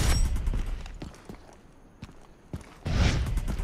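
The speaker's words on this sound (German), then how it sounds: "Ich höre irgendwie die ganze Zeit Schüsse." Gunfire in the video game Far Cry 3: scattered sharp shots with brief bursts at the start and end, a quieter middle with isolated cracks, mixed with game ambience and footstep-like thumps.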